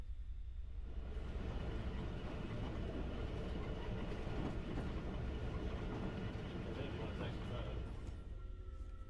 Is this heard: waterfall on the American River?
no